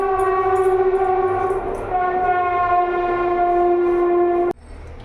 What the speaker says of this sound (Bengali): আমাদের এখান থেকে সামনে থেকে ট্রেন গেল আওয়াজটা নিশ্চয়ই তোমরা শুনতে পেয়েছ